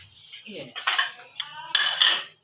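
Boiled rice served from a pot onto a plate for masoor daal chawal, a few close clinks and scrapes of a metal spoon against cookware, clustered in two short bursts.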